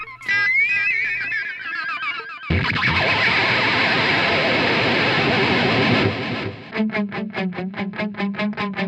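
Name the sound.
electric guitar whammy bar ghost effect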